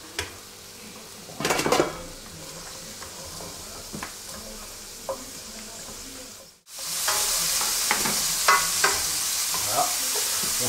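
Spring vegetables for minestrone sauté in a pot, with a spoon scraping and clinking against the metal. The sizzle starts moderate, then cuts out briefly and comes back as a loud, close frying hiss.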